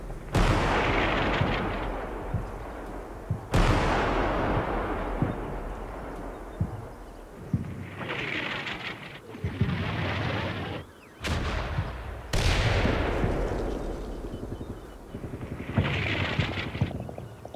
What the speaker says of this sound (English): Never mind, here comes more artillery.